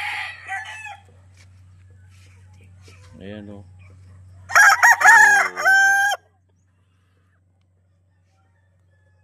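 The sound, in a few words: chickens and roosters crowing at a game farm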